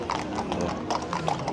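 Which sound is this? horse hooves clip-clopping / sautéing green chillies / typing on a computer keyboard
horse hooves clip-clopping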